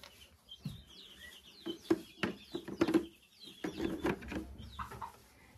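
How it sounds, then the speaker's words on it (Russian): White Leghorn hens cluck and chirp in a backyard coop, several birds calling in short irregular bursts close by, with soft rustling underneath. "Это курочки легорн."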